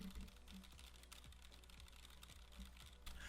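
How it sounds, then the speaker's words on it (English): Faint keyboard typing is picked up by a HyperX Cloud Orbit S headset microphone, a quick irregular run of light clicks under a low background hiss, with no talking. "The keyboard clicks seem to be pretty faint"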